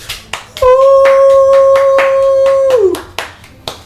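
Scattered hand claps from a few people applauding as someone walks down stairs, sharp separate claps spread across the moment, with a clear sustained whistling tone sounding through the middle.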